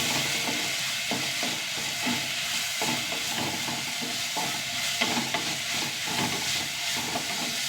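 Ginger and green chillies sautéing in a small pan give a continuous moderate sizzle and crackle, with frequent stirring scrapes running throughout.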